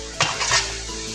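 A spoon scrapes and stirs Andhra-style fish curry with tomato puree in a pan, one brief close scrape with a soft clatter over a faint sizzle.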